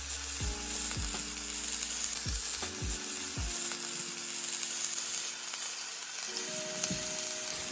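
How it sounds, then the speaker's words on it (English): A ground lamb burger patty sizzles in a fry pan, a steady close hiss with a few thumps and clatters early on as it settles, then continuous frying with no talk. "Now I'm going to drop it in the fry pan."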